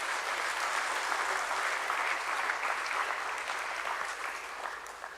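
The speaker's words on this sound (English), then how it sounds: "Let's welcome them all with a nice round of applause" Audience at a bank listing ceremony at the Bombay Stock Exchange clapping in a sustained round of applause, moderately loud and even throughout, tapering slightly at the end.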